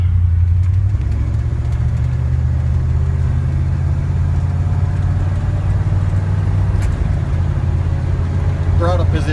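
1979 Ford truck driving with its engine running, a loud, steady low rumble and road noise from inside the cab, with brief talk near the end.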